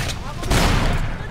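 A rapid burst of gunfire in the video game Bioshock 2, several shots crackling together in just over a second, loud and dense, with a faint voice underneath.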